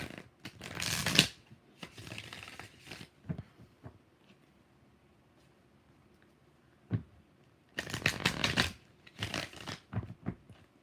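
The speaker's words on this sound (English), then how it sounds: "Two more shuffles for Indigo." Tarot cards being shuffled by hand in short riffling bursts with quiet gaps between, close and crisp, some bursts longer and louder than others.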